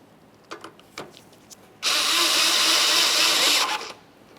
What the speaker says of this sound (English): Let's take that mounting screw, we'll start it in there and snug it up.